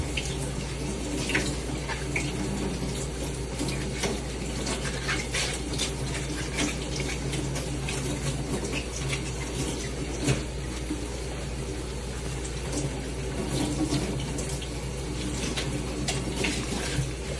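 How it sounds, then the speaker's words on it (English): Steady running water from a tap pours continuously while collard greens are washed thoroughly in a kitchen sink, with faint splashing and handling of leaves throughout. "So then you wash it very thoroughly."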